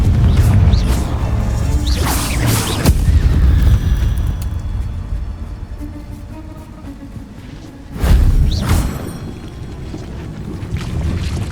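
Confringo explosive spell blasts from a Harry Potter video game, two loud booming bursts near the start and another around eight seconds, set over a steady rumbling game soundscape with whooshing effects.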